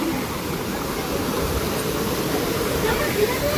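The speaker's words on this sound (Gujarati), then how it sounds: "જો પાણી જાય રહ્યું." Water pours steadily down a waterfall at Ranituk, a place of pilgrimage, making a loud, continuous broadband roar that stays even from start to finish.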